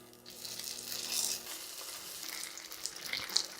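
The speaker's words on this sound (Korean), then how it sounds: "이제 식용유를 두르고 군만두를 만들어 보도록 하겠습니다." Rice paper dumplings fry in cooking oil in a pan over medium heat, giving a soft, even sizzle with faint crackles and no talking.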